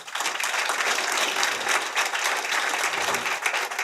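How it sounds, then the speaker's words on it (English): Audience applause for GOP Senate candidates at a South Carolina campaign stump event, a steady roomful of clapping throughout at moderate level. "Let's give them a round of applause"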